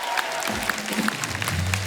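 Studio audience applauding on a Hindi comedy talk show stage as a singer, writer and actor is welcomed, a steady wash of clapping with a few sharper claps, with a brief voice and music-like tones underneath.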